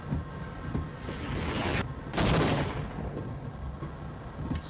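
A grenade goes off in the Half-Life video game with a booming blast partway through, trailing into rumble over a bed of background game noise.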